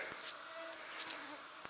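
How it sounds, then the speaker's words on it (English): Mosquitoes swarm in the woods, their faint high-pitched whines drifting past the microphone in brief passes over a quiet outdoor background, with a few soft knocks. "over here the mosquitoes are out in hordes"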